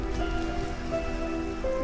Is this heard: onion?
no